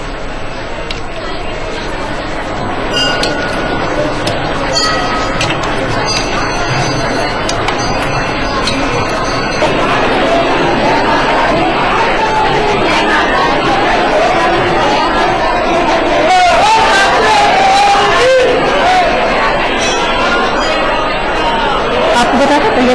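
Dense babble of a crowd of devotees at a temple during Navratri, many overlapping voices and chatter filling the space continuously, with occasional clinks and taps.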